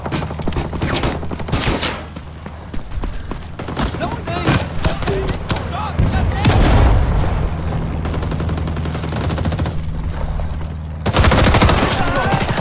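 Gunfire in Rising Storm 2: Vietnam, on the Saigon map: dense, loud bursts of automatic fire and rifle shots crackling almost without pause, with heavier booms toward the end.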